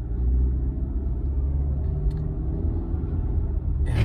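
A 2016 Ford Explorer XLT with leather interior and 58k miles rolls around a residential block, giving a steady low road rumble and engine hum from inside the cabin, with no talk.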